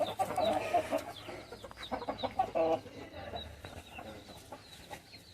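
Medak breed hens on a farm cluck in busy, uneven bursts, loudest at the start and thinning out later, with scattered sharper calls from the flock nearby.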